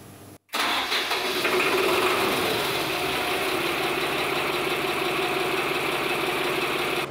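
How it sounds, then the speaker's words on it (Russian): A river motor ship's auxiliary engine cranks and fires after a brief silence, then settles into a loud, steady mid-pitched running drone, heard close and alone with no talking. "Сейчас запустим вспомогательный двигатель, чтобы от берега отключиться"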